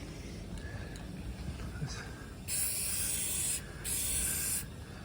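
Rust-Oleum spray paint is sprayed onto car bumpers over a wet concrete floor, heard as two distinct loud hissing bursts of about a second each, standing out close by against a quiet background.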